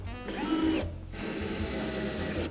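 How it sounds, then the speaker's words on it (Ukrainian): A cordless screwdriver drives self-tapping screws into a Dnipro-M 32RS drill stand, close and loud, whirring in two bursts separated by a brief pause. "Магія монтажу в мене з'явився шуруповерт і прикручуємо його."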